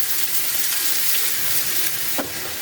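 Pirandai (veldt grape) sautéing in oil for a Tamil pickle, giving a steady, loud broadband sizzle throughout with a brief stir or clink near the end and no speech.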